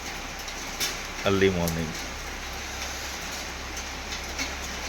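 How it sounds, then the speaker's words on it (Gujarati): Heavy rain pours in a dense, steady hiss near a home among the hills on the Saputara Dang road, with a brief spoken phrase and a short tonal blip early on. "જોરદાર વરસાદ."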